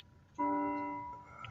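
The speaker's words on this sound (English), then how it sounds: "I can hear your chiming clock." A chiming clock strikes in the background of a quiet room, a single clear tone that rings out and slowly fades over about a second.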